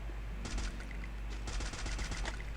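Rapid automatic gunfire bursts in the video game Free Fire: two dense volleys of shots over a constant low game hum, the second burst longer and louder.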